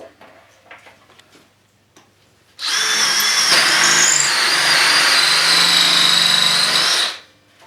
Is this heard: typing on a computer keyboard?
no